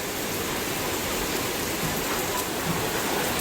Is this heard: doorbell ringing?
no